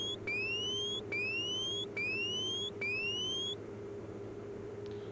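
Overspeed warning alarm in a PC-12 flight simulator game: four repeated rising electronic chirp tones in an even rhythm, each sweeping upward, over a steady low cockpit hum that continues after the alarm stops.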